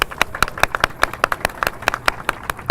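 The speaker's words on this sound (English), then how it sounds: "Let's give them a big round of applause." At a Go Red For Women press conference, a small audience claps in sparse, uneven hand claps, a thin scattered applause heard fairly close.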